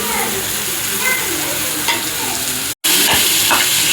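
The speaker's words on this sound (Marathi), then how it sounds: "अशा प्रकारे फ्राय करून घ्यायचं." Dried Bombay duck fries in a pan with turmeric and onion-garlic masala, a steady close sizzle with stirring scrapes and a very brief silent break near the end.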